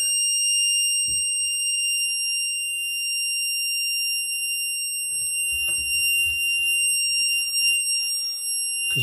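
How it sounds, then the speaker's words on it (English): Household smoke alarm set off by bathroom steam and condensation, a continuous piercing high-pitched electronic tone sounding loud and unbroken throughout, with brief rustling and bumps in the room beneath it. "it's set off the alarm"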